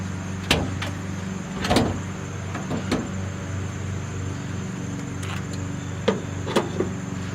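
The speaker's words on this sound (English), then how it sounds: "we should probably pop the hood" Hood of a 2016 Toyota RAV4 SE being popped open, a handful of separate sharp clicks and latch knocks over a low steady hum, close and moderately loud.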